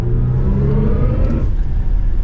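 The digital drive sound mode of a 2023 BMW iX M60 electric car, a synthetic spaceship-like hum with layered tones that rise and shift, played loudly inside the cabin with no talking.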